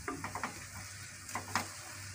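Onions frying and browning in oil in a kadhai, a soft continuous sizzle with a few brief clinks and scrapes of stirring, fairly quiet and close, with no voices.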